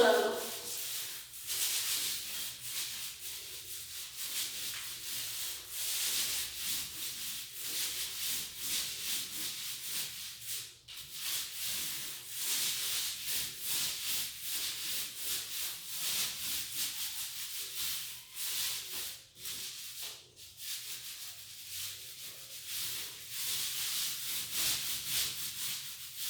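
A paint roller works across a house wall, blending each stroke into the last, a steady close rubbing swish repeating for the whole stretch with a few short breaks and no clear talking.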